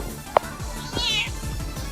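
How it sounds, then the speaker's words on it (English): A cat meows twice up close: a sharp, brief first call, then a longer, wavering meow, over a low background hum. "my cat, you want some food?"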